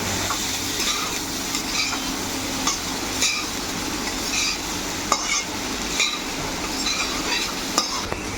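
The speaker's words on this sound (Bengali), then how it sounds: "ভাতটা আমি অল্প অল্প করে দেবো আর মিশিয়ে নেব।" Mixed fried rice being stirred and folded in a pan as rice is added a little at a time, with steady scraping and light clinks of the spatula over a soft sizzle, close and continuous throughout.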